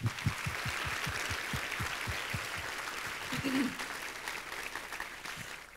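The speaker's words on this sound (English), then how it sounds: "let's give them a round of applause" Applause from a luncheon audience of survivors, caregivers and medical professionals at a Power of Pink event, a steady wash of clapping heard from some distance with a few louder nearby claps at the start.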